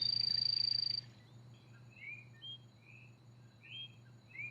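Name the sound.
Barbados whistling frog high-pitched whistle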